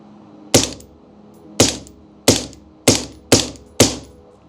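Six rifle shots ring out at a shooting range, each a sharp close crack with a short decaying tail, spaced roughly half a second to a second apart.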